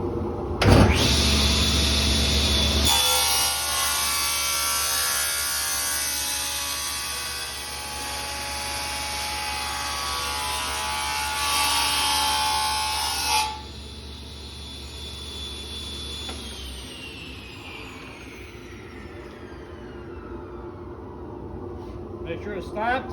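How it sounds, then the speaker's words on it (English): A power saw cuts through stock for a criss-cross bowl, running loud and steady for about ten seconds, then winding down to silence. A fainter motor hum lingers underneath throughout. "you want to make sure your saw is shut off and stop turning before you pull it back through"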